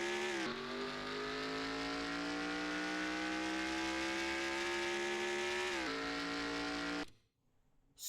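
A race car in a NASCAR video game holds a loud, steady engine drone. Its pitch dips and rises slightly at two gear changes, then the sound cuts out abruptly near the end.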